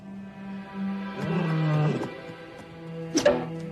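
Cartoon lion letting out a short roar, a strained growling burst near the start followed by a brief higher snarl, with some voiced tones alongside.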